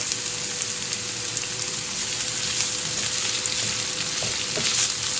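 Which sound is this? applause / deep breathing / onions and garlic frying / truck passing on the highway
onions and garlic frying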